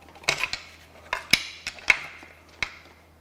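Tools work on the crank pulley of a damaged Mitsubishi 4B11T engine during teardown, giving a series of sharp metallic clinks and taps, about six distinct hits spread irregularly over a few seconds, fairly close and clear against a quiet background.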